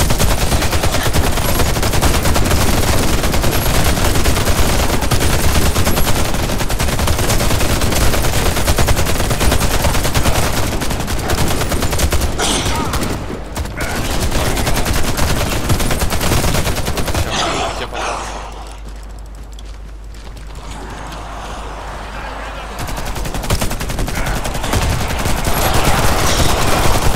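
Dense automatic gunfire in the shooter game Warface, loud and continuous with rapid overlapping bursts, a brief break, then a quieter stretch of several seconds before the shooting resumes.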